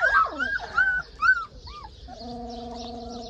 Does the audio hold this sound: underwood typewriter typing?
no